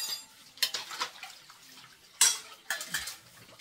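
Dishes, cutlery and pots clatter and clink in a home sink during washing, with several sharp bursts of clanking over a low background of running water, fairly close.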